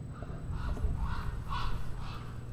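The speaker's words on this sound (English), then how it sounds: "Why are here ravens in there?" Ravens cawing indoors, a few harsh calls in a short irregular series at moderate distance, over a low steady background hum.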